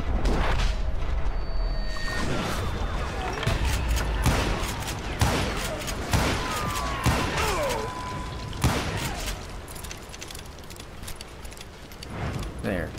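Gunfire in a Western shootout in the video game Call of Juarez Gunslinger: repeated sharp shots and bursts over a dense, busy game mix, with a few whizzing ricochet sweeps in the middle.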